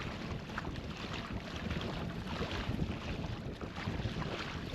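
A Hobie Outback kayak is pushed along by a 24-volt Newport NK180 electric trolling motor, heard as a continuous broadband rush of water and wind with no talking.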